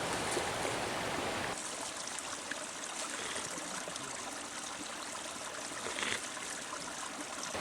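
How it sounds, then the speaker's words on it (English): A cold mountain stream runs along a hiking trail on Bear Mountain, Connecticut, its continuous close trickling and rushing water filling the clip without voices. "I just like natural running water"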